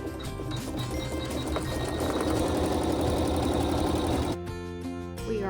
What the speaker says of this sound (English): And then with a neutral thread, you're going to stitch a seam.